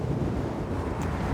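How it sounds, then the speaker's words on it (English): Steady wind buffeting on a bike rider's microphone during a warm, windy westerly ride, a continuous low rumbling roar filling the whole clip with no voice. "What I can tell you is it's windy."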